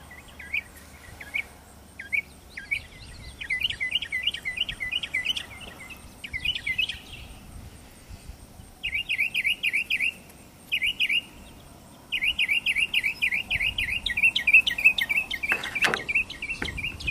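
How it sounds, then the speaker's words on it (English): Mockingbirds sing in repeated bursts of rapid, high chirping phrases, some stretches continuous and others broken by pauses, moderately near over quiet outdoor background. "You can tell I've got lots of mockingbirds."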